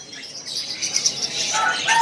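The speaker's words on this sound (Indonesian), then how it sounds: "Di kios ini juga ada yang namanya burung sogon." A sogon bird, also called sogok ontong, chirps at a bird kiosk, giving a few thin, high tweets over faint background bustle, close and fairly clear.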